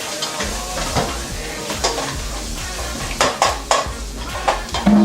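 Food sizzles in olive oil in a pan on a stove while a utensil stirs it, with a steady frying hiss under repeated scrapes and clanks against the pan that grow busier toward the end.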